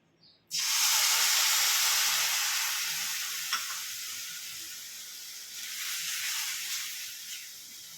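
Coconut ladoo mixture being cooked with milk in a pan, a loud, steady broadband sizzle that starts abruptly and then holds with slight swells as it is stirred, no voices.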